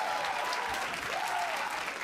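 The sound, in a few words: esports crowd applauding and cheering for Bjergsen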